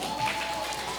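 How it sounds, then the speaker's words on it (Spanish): A brief stretch of continuous audience applause welcoming a guest writer at a school event, steady and moderately loud with a faint tone beneath. "Un aplauso."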